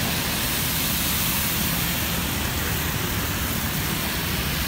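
Steady heavy rain in Central Jakarta, Indonesia, pours down in a dense, continuous hiss, loud and close, with no voices.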